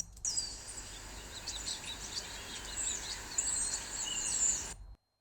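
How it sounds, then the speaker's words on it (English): Birds chirp and tweet repeatedly over a soft outdoor nature ambience with a low steady hum beneath, the calls scattered and fairly close before everything cuts off abruptly at the end. "I have some audio in a, you know, like birds, nature kind of thing."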